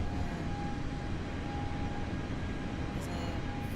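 Lufthansa A321 on approach in a flight simulator game, heard as a steady, even engine roar with a faint constant tone running through it, holding level for the whole stretch without change.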